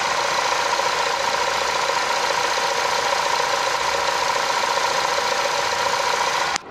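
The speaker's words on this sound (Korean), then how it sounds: "엔진 소리 들어보셨습니다. 상당히 정숙한 엔진 소리를 내고 있었는데요" A Samsung SM5 Platinum engine idles with the hood open, giving a steady, smooth, quiet hum that stays even throughout with no revving, close and alone until a brief cutoff at the end.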